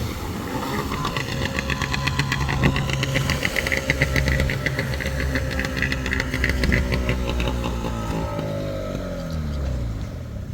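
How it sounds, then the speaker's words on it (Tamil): A fishing boat's engine chugs steadily as it heads toward the beach for a shore-seine haul, a continuous rumbling throb at moderate loudness that drones without letting up and carries no talk. "கடற்கரைக்கு நோக்கி தற்பொழுது இந்த போட் வரப்போகுது."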